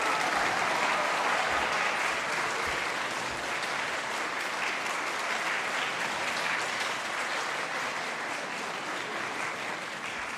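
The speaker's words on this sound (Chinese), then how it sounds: "掌声有请一下我的舞伴" An audience at a comedy crosstalk stage show applauds to welcome a performer's dance partner, a long, even wash of clapping that holds steady and close throughout.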